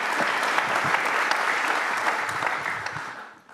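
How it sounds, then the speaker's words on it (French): Warm applause from an audience at a business event as company leaders take their seats, a full steady clapping that tapers off near the end. "vous pouvez l'applaudir aussi"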